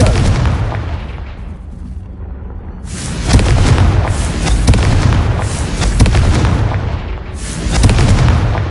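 Booming blasts from the Confringo fire spell in Hogwarts Legacy, two loud explosive bursts with rumbling tails, the second rolling on for several seconds, then a third sharp burst near the end.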